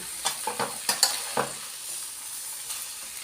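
Pad see ew with vegetables stir-fried in a pan: several quick spatula scrapes and tosses over a soft background sizzle, then the sizzle carries on alone, close and moderate.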